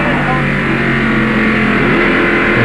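In-car audio from a driver's NASCAR stock car at the 1995 First Union 400, North Wilkesboro: a loud, unbroken engine roar with a radio voice talking beneath it.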